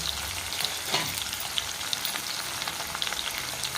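Four small onions, sliced lengthwise, frying in a pan of hot oil after sesame seeds, a steady close sizzle with scattered pops and occasional spoon scrapes, no one speaking.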